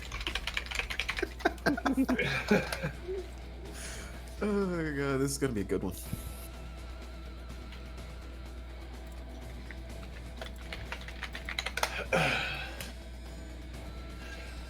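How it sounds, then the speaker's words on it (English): Clattering computer keyboard typing in short bursts between stretches of close conversational talk during a podcast recording, with keys sounding near and moderately loud. "I'm all self-conscious about typing now."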